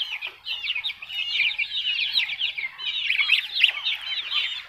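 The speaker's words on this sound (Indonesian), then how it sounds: "Ini ayam yang terserang penyakit, tapi lumayan udah sembuh." Joper chickens cluck and chatter continuously in a flood-hit coop, a dense, fairly close flock sound with overlapping calls throughout and no talking.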